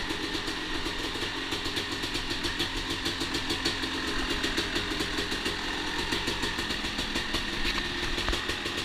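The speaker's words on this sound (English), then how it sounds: "I give it always a minute or two to warm up before I even touch the throttle." A 2004 Honda CR250 dirt bike engine idles as it warms up, a loud, steady, rapid burbling that runs unbroken throughout with no voices.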